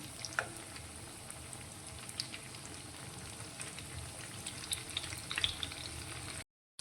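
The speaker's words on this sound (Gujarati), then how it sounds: "નીચેની સાઈડથી થોડો ક્રિસ્પી થાય તે રીતે તેને આપણે તળવાનો છે" A potato and poha snack shallow-fries in oil, giving a steady, fairly quiet crackling sizzle that runs unbroken for several seconds before cutting off abruptly, with no voices.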